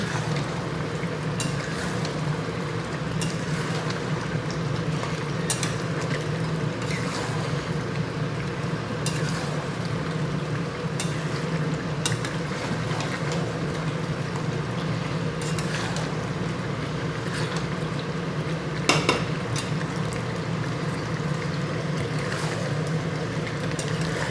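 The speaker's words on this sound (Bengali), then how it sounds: "এখন আমি রান্না করছি। তো আজকে এই যে মাটন রান্না করছি।" Mutton with whole garlic cloves simmers in a pot on a home kitchen stove, a steady low bubbling and sizzling hiss running unbroken, with a few faint clinks.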